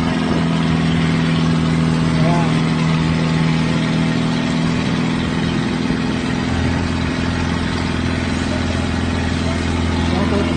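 Loud, steady drone of an outrigger pumpboat engine near Concepcion, Iloilo, the close motor hum unbroken from start to finish, its low tone shifting slightly partway through, with possible faint voices beneath.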